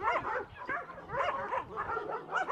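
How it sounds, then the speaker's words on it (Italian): Several dogs fight at close range, a loud tangle of snarls, yips, whimpers and barks in overlapping bursts, with no speech. "i cani litigano tra loro"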